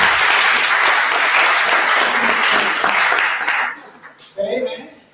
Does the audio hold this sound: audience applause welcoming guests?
yes